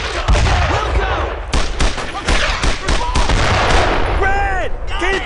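Sustained machine-gun fire in a World War II Brothers in Arms cutscene, dense rapid bursts with loud cracks and booms running throughout, under shouted commands from soldiers.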